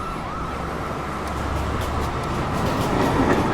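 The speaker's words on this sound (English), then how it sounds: "Downtown, local 1 train" A downtown local 1 subway train pulls into 207th Street station, a steady low rumble of wheels and motors building in loudness, with faint high squeal above, no voices.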